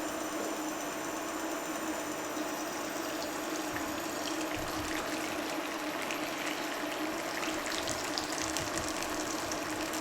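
Hot tap water runs steadily in a kitchen sink while chicken drumsticks are rinsed, a constant close gushing hiss with no talk.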